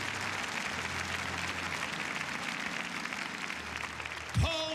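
A church congregation applauding during a worship service, a steady wash of clapping from a crowd heard at a distance, with a brief tonal sound near the end.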